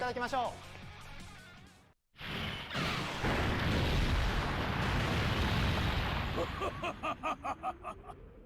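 Active skill animation for Legend Super Saiyan Broly in the Dokkan Battle video game: a huge, sustained roaring blast after a brief cutout, with explosive rumble filling the clip and rapid pulsing hits near the end.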